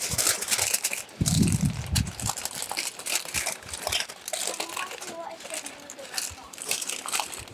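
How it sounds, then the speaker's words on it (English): Aluminum foil crinkles and crumples in bursts as it is wrapped around a white champaca branch for air layering, with someone talking nearby. "Now we just need to use aluminum foil to wrap it around."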